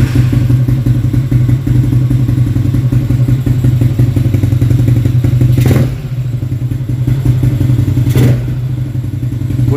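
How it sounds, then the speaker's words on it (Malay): A motorcycle engine idles with a steady low rumble, close and loud, interrupted by two sharp thuds or clatters. "Bunyi enjin senyap lah, macam biasa lah."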